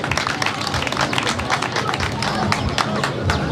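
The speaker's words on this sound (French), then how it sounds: "Applaudissez pour monsieur le sous-préfet" Crowd applause at an outdoor closing ceremony in Cameroon honoring a sub-prefect, dense steady clapping from many hands with a murmur of voices throughout.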